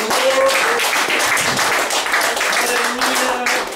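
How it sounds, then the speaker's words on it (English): A church congregation claps together as an offering during a worship service, a dense, steady wash of applause filling the room throughout, with faint voices mixed in. "Clap offering to the Lord."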